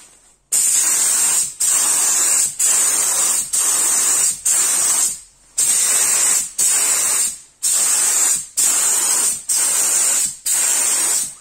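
A polyurethane foam gun sprays foam in about ten regular bursts, each a loud, steady hiss roughly a second long separated by short pauses, heard close up without talk.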